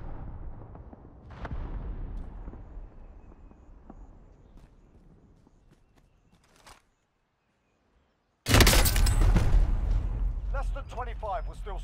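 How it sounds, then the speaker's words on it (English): Cluster strike explosions in a war video game, a distant low rumble fading away, then after a brief silence a sudden loud burst of blasts that keeps roaring, with voices talking through the scene. "Cluster strike away."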